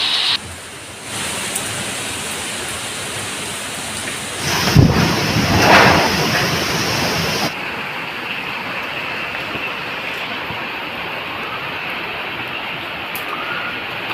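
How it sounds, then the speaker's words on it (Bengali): Heavy rain from Cyclone Remal pours down in a dense, continuous roar, broken midway by a louder surge of wind or a low rumble before the downpour settles again. No voices are heard. "সেই সময় আমাদের এখানেও ঝড় আর বৃষ্টির পরিমাণও বেড়ে গেছে"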